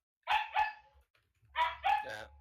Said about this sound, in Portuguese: É um cachorro pelo festival